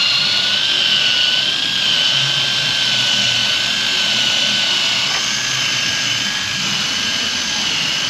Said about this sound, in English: Here's the eraser wheel.